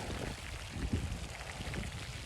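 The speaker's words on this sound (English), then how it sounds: "Oh yeah, and it's raining, so it started raining in about the last 6." Steady rain falls over a garden bed of freshly planted roses, a dense, even patter of drops with a soft pouring wash underneath, continuous and moderately close, with no voices.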